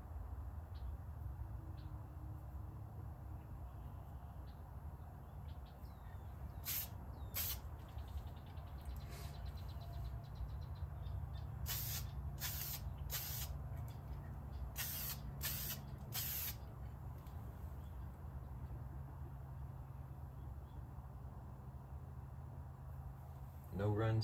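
Aerosol spray paint applied as a second coat during rust repair on a 2000 Honda Civic, heard as several short bursts of hissing spray in quick clusters over a steady background hum.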